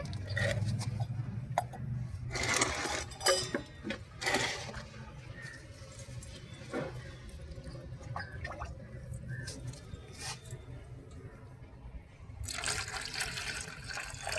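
Water is poured into a curd and turmeric mixture for a natural pesticide for rose plants. Soft, close trickling and splashing comes in bursts, with quieter gaps of gentle liquid movement between them.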